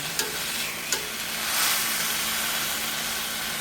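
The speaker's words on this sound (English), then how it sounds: "We're going to take a cast iron skillet that we have got smoking hot. And this is what we're going to sear our steak with." Steak sears in a smoking hot cast iron skillet with a loud, steady hiss, and two brief knocks come early on.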